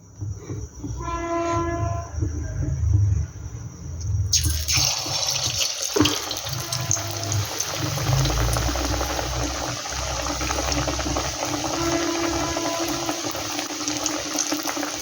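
Battered pumpkin leaf rolls drop into hot oil and fry with a sudden burst of loud, steady sizzling hiss that continues close by after a quieter start.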